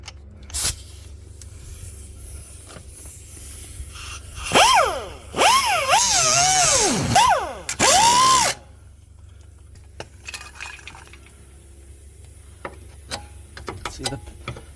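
A power tool cuts a section out of the body of a cheap used car under repair, a loud whining burst with rising and falling pitch lasting a few seconds, surrounded by quieter clanks and handling noises.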